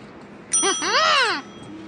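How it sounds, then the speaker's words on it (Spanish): A bright bell rings once in the Curious George meatball launcher game, a clear ringing chime with a short decay, heard alone. "Cuando hayas terminado, toca la campana."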